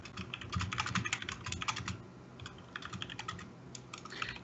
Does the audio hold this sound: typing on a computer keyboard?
yes